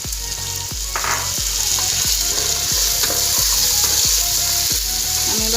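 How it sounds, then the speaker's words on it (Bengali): Green peas tipped into a pan of frying ingredients sizzle loudly and steadily, joined by a regular ticking or clicking about twice a second throughout, with no voices. "আমি এবার মটরশুঁটিটা দিয়ে দিচ্ছি। সব কিছু আমার ফ্রাই হয়ে এসেছে ভালো মতো।"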